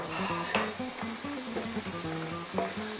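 Shell-on lobster tails frying in olive oil in a paella pan: a constant close sizzle with a few sharp crackles and clinks over a low background hum, no one talking.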